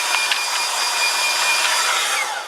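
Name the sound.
hair dryer drying a drawing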